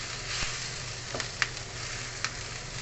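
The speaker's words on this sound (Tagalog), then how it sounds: "Halang natin yung ating pork." Pork sizzles steadily in a hot frying pan as it is stirred, with a few soft utensil scrapes and taps against the pan over a constant close hiss.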